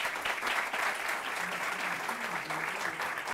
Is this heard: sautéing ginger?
no